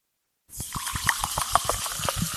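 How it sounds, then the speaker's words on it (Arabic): Unflavored, sugar-free soda water is poured into a glass with ice for a mango mojito, a steady close fizzing gush with small splashes and bubbling that runs continuously once the pour starts. "ماء صودا بدون طعم وبدون سكر"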